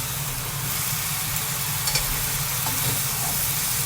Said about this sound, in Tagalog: ikot na natin yung niluto natin carrots and pocket cream